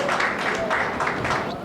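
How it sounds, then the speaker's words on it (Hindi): Audience applause at a Hindi poetry recital (kavi sammelan), a brief burst of crowd clapping in loose pulses, fairly loud and close, with some voices mixed in. "आप जोरदार तालियां बजाएं"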